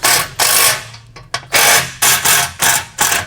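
A 9/16 socket wrench ratchets repeatedly in quick, loud bursts, tightening bolts on a trailer fender bracket up close, with a steady back-and-forth rhythm and brief pauses.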